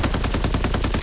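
Automatic gunfire in the battle shooter Farlight 84, a fast unbroken string of loud, close shots with an even rhythm, heard alone.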